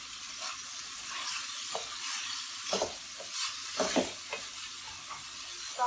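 Chopped capsicum stirred in a frying pan over medium heat, a soft continuous sizzle broken by several scraping spoon strokes, close up with no voices.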